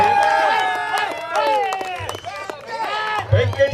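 Cheering and clapping rise from a crowd at a cricket league grand final awards ceremony, with a voice over a loudspeaker talking clearly above the crowd noise.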